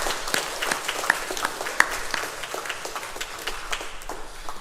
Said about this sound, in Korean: 우리의 영혼을 구원하신 우리 주님께 영광의 박수를 올려드리겠습니다